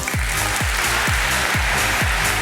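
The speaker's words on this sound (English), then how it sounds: "Please, a big applause for Joe Dixon" A conference audience applauds a speaker walking on stage, a broad wash of clapping under a steady, thumping bass beat pulsing about twice per second.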